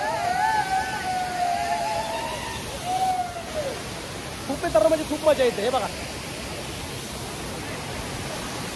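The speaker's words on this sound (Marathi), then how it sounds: "अशा प्रकारे हा वॉटरफॉल बघू शकता तुम्ही." Kalu waterfall in Malshej Ghat roars as a steady broadband rush of falling water, close and continuous throughout, while people talk over it at times.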